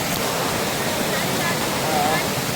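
Water at a waterfall rushes and splashes in a constant, broad roar close by during a boating outing, with faint brief tones over the wash and no clear speech.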